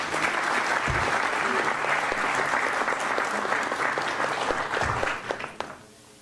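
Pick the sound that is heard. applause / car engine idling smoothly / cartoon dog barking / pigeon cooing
applause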